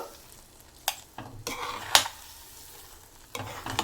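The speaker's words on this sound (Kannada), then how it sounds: "ಈ ಮಸಾಲೆ ಮಿಕ್ಸ್ ಆಗೋವರೆಗೂ ನಾವು ಹೀಗೆ ನೂಡಲ್ಸನ್ನು ಮಿಕ್ಸ್ ಮಾಡಿದ್ರೆ ಸಾಕು" Maggi noodles coated in masala are stirred in a frying pan, with sharp spatula clacks and scrapes against the metal over a soft continuous sizzle.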